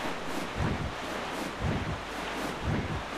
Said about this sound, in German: Blöder Wind.